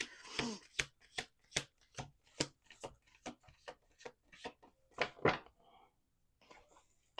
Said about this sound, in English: Last shuffle. Definitely last shuffle.